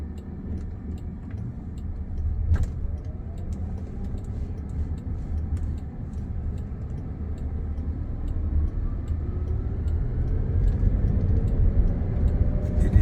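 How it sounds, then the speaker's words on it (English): A Waymo self-driving electric car moves through town traffic in Tempe, a low steady road and tire rumble that slowly builds as it picks up speed, with faint ticking from inside the cabin and no talking. "Electric car, so it's rather quiet, but it picks up pretty good."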